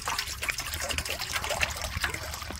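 Fresh water is poured out for animals, a steady close trickle and splash of liquid filling a container for a couple of seconds, with light background rustle.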